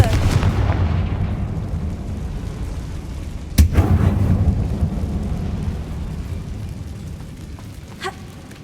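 A Confringo spell explosion in Hogwarts Legacy detonates inside a closed, tomb-like mine, giving one sharp, loud blast with rumbling low-end decay over a dense, continuous background roar.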